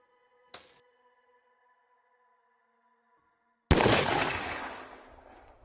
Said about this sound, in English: That gunshot.